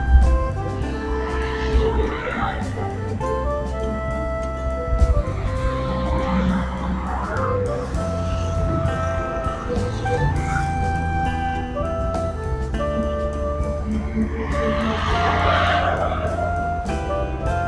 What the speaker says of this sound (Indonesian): Sekarang ini masih banyak mobil ini.